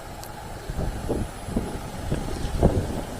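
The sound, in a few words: wind blowing at night in a cemetery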